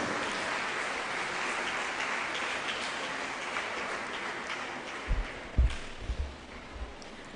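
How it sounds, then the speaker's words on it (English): Applause from a crowd at a school anniversary launch, a steady wash of clapping heard from a distance, with a few dull thumps toward the end. "Let's welcome her with a round of applause"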